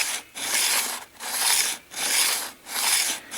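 A Berghman ice skate sharpener rasps back and forth along the steel blade of a CCM 952 hockey skate, making four loud, steady scraping strokes with brief gaps between them.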